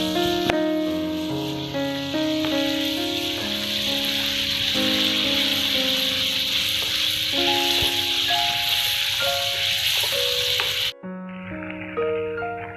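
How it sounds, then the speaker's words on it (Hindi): A masala of tomato, chili, yogurt and cream fries in ghee over a high flame, giving a steady sizzle under loud background music that cuts off abruptly near the end. "फ्लेम तेज ही रखेंगे, जिससे कि ये जल्दी भुन जाएगा।"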